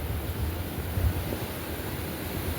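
The Nantahala River flows at a crossing, a steady, even rush of water heard alone at moderate volume.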